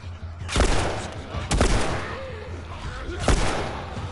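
Gunshots ring out in the survival game The Last of Us, three loud sharp blasts spaced a second or two apart, each with a reverberant tail over low background rumble.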